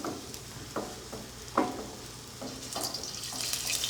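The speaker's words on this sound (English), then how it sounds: "Nice sizzle." Scallops sear in hot oil in a pan, a quiet, steady sizzle broken by a few soft crackling bursts, with no talking.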